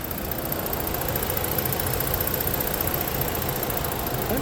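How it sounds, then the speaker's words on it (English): A 2015 Ford Police Interceptor Utility engine idles steadily, a constant broadband rumble with a faint rhythmic knock, heard alone with no talking. "I'm going to be quiet now so you can hear the actual engine idle"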